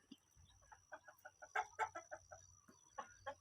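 A series of chickens clucking in short, repeated bursts at a chicken coop, fairly close and clear, with a few louder calls in the middle and near the end.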